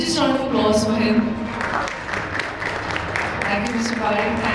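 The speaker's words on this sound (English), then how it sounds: "Can we have a huge round of applause for him?" An audience at a panel discussion on AI and automation in debt collection applauds a panelist, a broad, continuous wash of clapping heard under someone speaking clearly in front of it.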